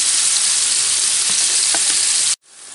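Onion, a head of garlic and bay leaves frying in a pan, a loud steady close sizzle with a few soft stirring clicks, cutting off abruptly near the end.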